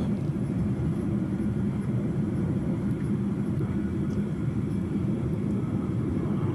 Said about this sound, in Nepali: जहाजले चाहिँ बिस्तारै आफ्नो उचाइ चाहिँ कम गर्दै जमिनतर्फ